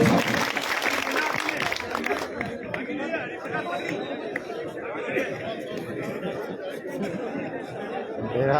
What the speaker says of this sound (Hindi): जोरदार तालियों के साथ श्रीमान संजीव जी बेनीवाल साहब।